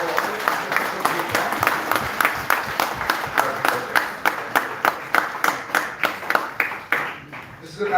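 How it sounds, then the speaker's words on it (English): Steady rhythmic clapping from an audience at a national-level oratory contest, strong, close claps repeating for several seconds, with voices murmuring underneath. "can you have a round of applause for all the participants of Group"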